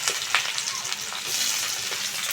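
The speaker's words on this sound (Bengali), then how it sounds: "তেল গরম হয়ে গেছে, প্রথমেই দিয়ে দেব কুচিয়ে রাখা পেঁয়াজ।" Chopped onion hits hot oil with a dense, close crackling sizzle, brief stirring clicks breaking through the steady frying hiss, no voices present.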